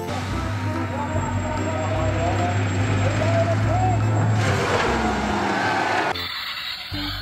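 A toy Tesla truck gives off a steady electronic engine rumble with a sustained hum and a high tone. The sound runs for about six seconds, then drops off sharply into quieter noise.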